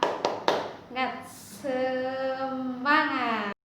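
Three sharp, evenly spaced handclaps open a spirited 'tepuk semangat' clap routine in a micro-teaching lesson, followed by a single voice calling out in a drawn-out, sing-song tone before it cuts off.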